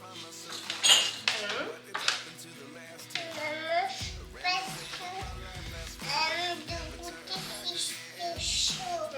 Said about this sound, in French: J'en coupe juste une pour pouvoir le montrer à la caméra.